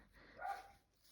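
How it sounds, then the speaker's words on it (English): A neighbour's dog gives a single muffled bark or yap at a distance, brief and fairly faint against a quiet room. "that's the dog next door."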